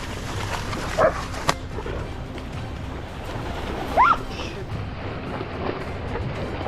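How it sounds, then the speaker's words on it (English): Hunting dogs bark from inside a thicket during a wild boar hunt: two short, distant barks about three seconds apart over steady outdoor background noise. "the hunting dogs began barking furiously inside the thicket"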